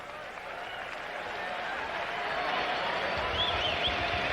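Boxing crowd at a women's pro bout cheering and applauding, a broad wash of clapping and voices that swells steadily and stays loud throughout.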